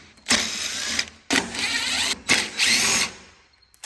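A power drill backs screws out of the top panel of an LG WM2455HG washing machine, three loud whirring bursts of about a second each with short pauses between, close up and with no talking.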